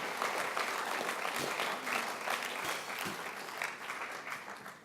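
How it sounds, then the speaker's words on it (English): A church congregation applauds a guest speaker, Dan Paterson, after his message: a steady, dense wash of many hands clapping at moderate distance, sustained for several seconds and fading slightly toward the end. "Give him a clap."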